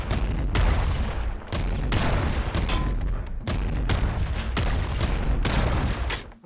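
Rapid assault rifle fire in the video game Nuclear Throne, loud dense bursts of gunshots with brief gaps, continuous across the whole stretch with no talking.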